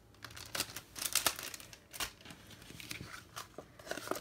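Plastic packaging on treat bag toppers crinkles and rustles in bursts as it is opened by hand, close and fairly quiet, with no talking.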